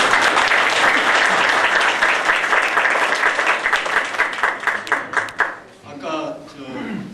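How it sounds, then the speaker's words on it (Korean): Audience applause at a book concert in Korea, dense and loud many-handed clapping that holds for about five seconds and then quickly fades out, after which a voice begins speaking. "박수로 청해 듣겠습니다."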